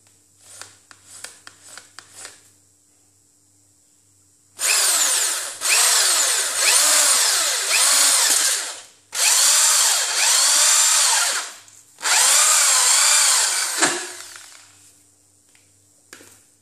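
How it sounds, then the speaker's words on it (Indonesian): A power drill bores into a PVC pipe cap for a hydroponic DFT system. A few light clicks come first, then repeated loud, close whirring drill bursts grind through the plastic with short pauses between, and no talking. "kita ambil titik tengahnya dan kita melakukan pengeboran."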